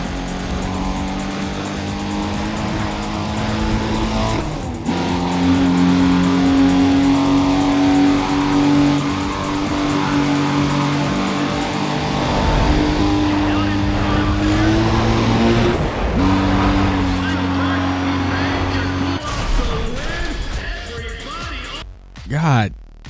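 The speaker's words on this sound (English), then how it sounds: "The engine sounds make me want to cream." Car engines in the racing video game Need for Speed ProStreet rev and accelerate loudly, with rising and falling engine tones and gear shifts across the whole stretch.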